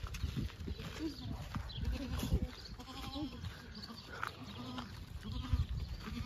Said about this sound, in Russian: Коза хочет с нами подружиться